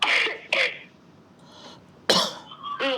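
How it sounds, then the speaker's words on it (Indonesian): A man suffering from a blocked nose and headache gives a couple of short, harsh coughs or throat-clearing bursts, close and fairly loud, separated by brief quiet gaps. "saya sampai batuk-batuk"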